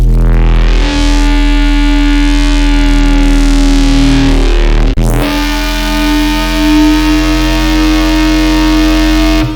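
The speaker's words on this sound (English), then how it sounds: "with this technique you can make Foghorns like these" A loud, synthesized foghorn tone built with distortion in a synth rings with a deep, buzzy drone. It shifts to a brighter, harsher timbre about halfway through and sustains without talking.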